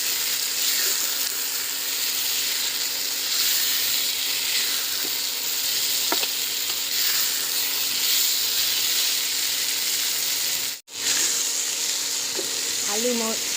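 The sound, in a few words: papaya and potato frying in a pan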